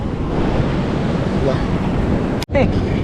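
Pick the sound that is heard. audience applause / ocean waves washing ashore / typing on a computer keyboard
ocean waves washing ashore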